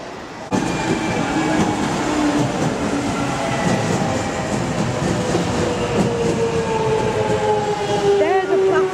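A London rail train runs steadily at a station on the change towards Stratford International, its loud continuous rumble and rail clatter filling the scene, with faint squealing near the end.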